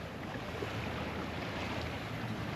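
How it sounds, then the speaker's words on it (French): A sailboat, an Oceanis 40, moves under full sail at sea, giving a steady broadband rush of wind and water with continuous wind buffeting on the microphone and no talking. "Un voilier qui navigue avec les voiles."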